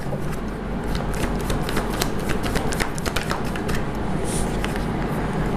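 Tarot cards shuffled and drawn from a deck by hand, a dense, continuous papery riffling and flicking that runs steadily and close throughout, with no voices.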